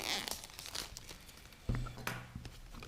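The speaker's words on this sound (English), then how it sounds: "Just gonna unwrap it" Plastic packaging being unwrapped from a TP-Link Tapo P100 mini smart Wi-Fi plug: soft crinkling and tearing, close and fairly quiet, with a few sharper rustles near the end.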